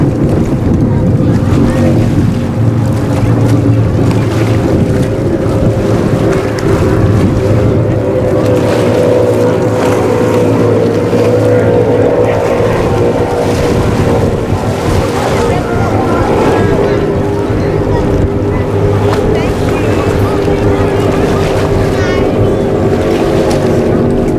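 An offshore superboat from Team Maritimo races past on Lake Macquarie during the Australian Offshore Superboat Championship, its engines a steady, loud roar mixed with heavy wind buffeting and water noise throughout.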